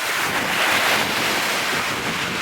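Ocean waves on a beach: a steady, loud wash of surf mixed with wind buffeting the microphone, constant and unbroken with no voices.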